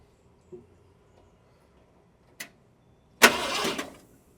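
A 1972 Ford F250 with a 390 V8, parked since 2007, cranking over in one short starter burst after two faint clicks, close by in a quiet setting.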